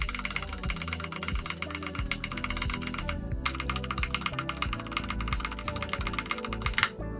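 Rapid keystrokes rattle on a wireless retro-style gaming keyboard, a dense, continuous stream of close clicks with one brief pause, no talking.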